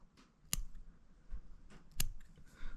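Small scissors snipping thread off a fly-tying hook, two crisp close cuts about a second and a half apart in a quiet room, with no voices.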